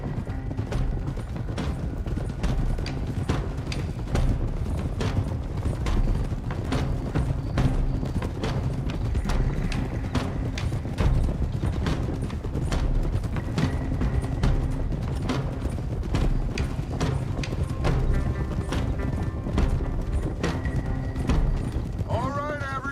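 Horses' hooves clip-clop in a steady, rhythmic gait throughout Red Dead Redemption 2, with soft game ambience and faint rattles underneath.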